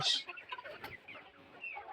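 Layer hens, about ninety days old, clucking softly in a poultry shed as they await a coryza booster vaccination, with busy overlapping bird calls and one brief higher squawk near the start.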